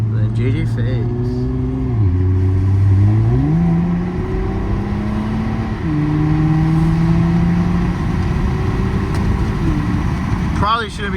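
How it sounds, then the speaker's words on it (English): A lowered Toyota TRD truck engine in snow revs steadily, its pitch dropping and climbing through downshifts, heard loud and continuous from inside the cab. "give it a little downshift"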